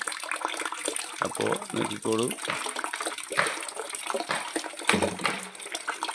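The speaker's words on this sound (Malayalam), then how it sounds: "ടാങ്കിൽ വെള്ളം പോകുന്നു" Water gushes and splashes steadily into a tank, with a person speaking briefly over the rushing flow.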